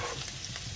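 Garlic and onion sautéing in a pan for a smoked meatloaf filling: a steady, close, broadband sizzle that holds at an even level throughout the short moment, with no voices.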